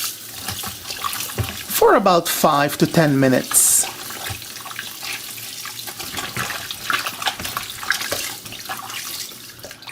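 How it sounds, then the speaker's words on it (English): Tap water rushes into a basin to soak cut chicken pieces, a continuous splashing flow that carries on throughout, with a voice speaking briefly over it near the start. "we're going to soak this in a basin of water"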